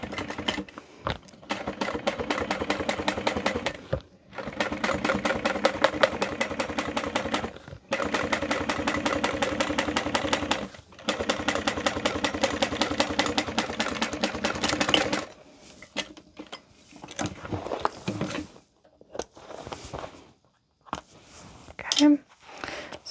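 A sewing machine topstitches a handbag in long, loud runs of fast, even needle clatter, broken by short pauses. Softer clicks and handling noises follow once the stitching stops.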